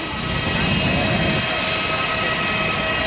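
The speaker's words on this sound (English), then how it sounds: "So there's a plane." An airplane engine roars as a steady, loud broadband drone throughout, heard near the airport just after a flight from Manila.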